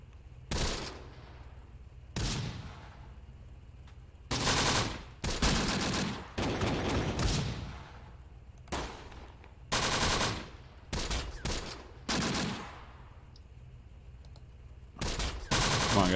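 Anti-tank gun shots and small-arms bursts in the Close Combat: The Bloody First battle at Sbiba Ridge, a string of sharp, separate reports spaced irregularly with quiet gaps between them.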